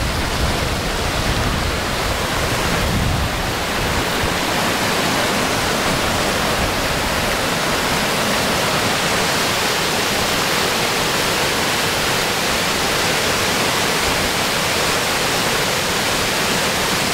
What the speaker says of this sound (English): is the water coming down the stream to go down over the falls on the Maliseet Trail